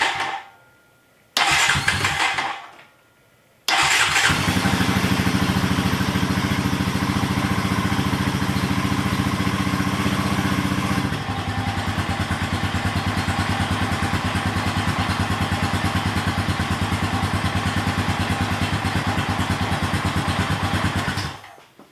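Honda Rancher 350 ATV engine cranking in two short bursts, then firing up and running steadily at a loud, close idle with a slight drop in pitch partway through.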